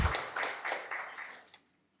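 Audience applauding at the valedictory session of an IEEE conference, a dense burst of clapping that holds steady for over a second and then trails off to a few last claps and silence.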